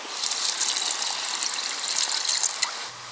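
Water from a bucket splashes onto garden bushes in one steady, loud gush close by, with no talking over it.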